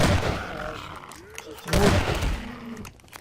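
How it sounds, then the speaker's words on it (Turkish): Gunfire in the Half-Life 2 video game, a couple of sharp, heavy shots with booming tails in a graveyard setting, mixed with game sound effects and a player's voice. "Hepsini kafadan vurduk."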